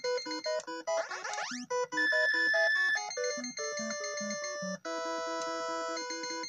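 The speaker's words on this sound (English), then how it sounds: "Hear that annoying beeping, you gotta stop reeling it in." Rapid electronic beeping and bleeping tones from a fishing reel in the NES game The Black Bass, a busy, chiming pattern, steady and fairly quiet, with no talking.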